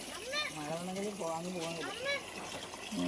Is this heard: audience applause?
no